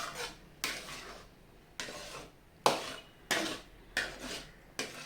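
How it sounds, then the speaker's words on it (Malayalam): A spoon repeatedly scraping and stirring thickening rice-water halwa in a pan, about seven rasping strokes at an uneven pace, each starting sharply and fading, close and fairly quiet. "ഇളക്കിക്കൊണ്ടേയിരിക്കണം നമ്മൾ വിടേണ്ട പരിഭാവനം വരെ നമുക്ക് ഇളക്കിക്കൊണ്ടേ കൊടുക്കണം"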